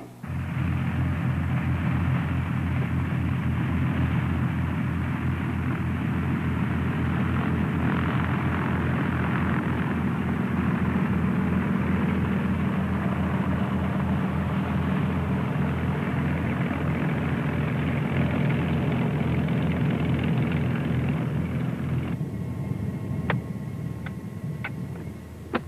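A Commander light aircraft's engine idles steadily while taxiing to the ramp, a continuous droning hum that stays close and even before easing slightly near the end.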